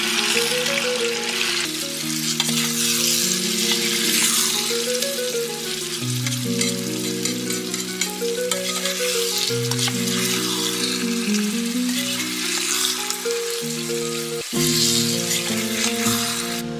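Steady frying sizzle of marinated chicken added to browned onions in a pan, with occasional stirring, under continuous background music.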